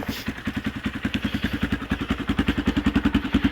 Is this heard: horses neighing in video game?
no